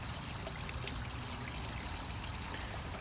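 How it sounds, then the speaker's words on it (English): A backyard waterfall feature sends a steady, unbroken trickle and wash of water, faint but constant, with no other sounds breaking through. "This is supposed to be a waterfall feature right here."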